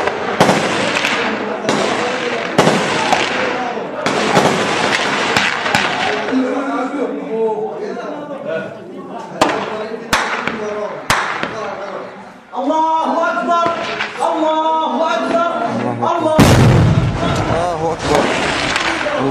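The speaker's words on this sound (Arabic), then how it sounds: "تدمير دبابة داخل السرية" Explosions and bursts of fire in a war zone as a tank is destroyed in Syria, with sharp repeated blasts and crackling over the full stretch, heavy impacts near the end, and excited voices shouting throughout.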